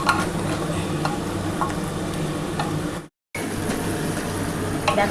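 Spice paste for chicken curry, made with hot red chilli powder, stir-fried in a pressure cooker: a steady, close, dense sizzle with scraping strokes of a spoon, interrupted by a brief dropout to silence partway through.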